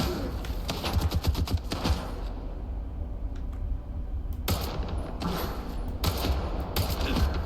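Repeated bursts of gunfire in Stalker 2: Heart of Chornobyl. Rapid volleys at the start and again near the end are separated by a quieter gap with a few isolated shots, all moderately loud and fairly close.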